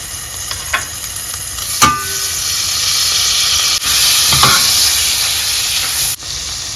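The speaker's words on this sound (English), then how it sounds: "In the same pan, we'll go ahead and add some butter." Butter hits a hot pan used for garlic butter shrimp and sizzles loudly, a sharp crackle at the start settling into a steady, close frying hiss with a few clinks and shifts of the pan.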